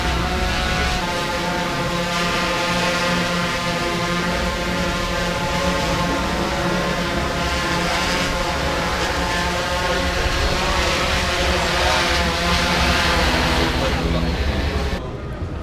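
A small egg-shaped camera drone flies with a steady, loud, high whirring buzz of spinning propellers, continuous and unchanging for about fifteen seconds before cutting off at the end.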